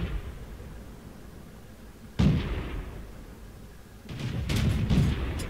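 Tank cannon fire in World of Tanks aimed at an M5 Stuart, two heavy booming shots a couple of seconds apart, each with a rolling echoing tail over low background rumble.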